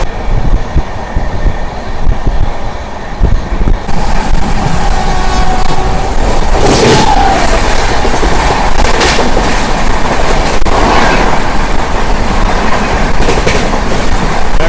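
The Padmavati SF Express, an LHB rake bound from Tirupati to Secunderabad, runs flat out at 130 km/h, giving a loud continuous roar and rattle of the coaches with rhythmic wheel beats on the rails.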